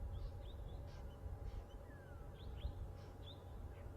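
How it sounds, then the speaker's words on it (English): A rattling cisticola calls in the African bush, faint and distant, giving short chirps and a brief rattling trill over a steady low outdoor rumble, with no voices. "We've got a rattling cisticola."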